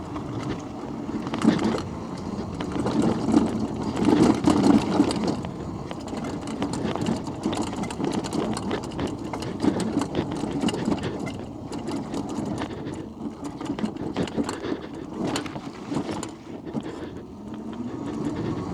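A Terra Prime electric scrambler motorcycle rides off-road on dirt, giving a steady electric motor whine mixed with bumpy rumble and clatter that swells and dips as the bike moves along.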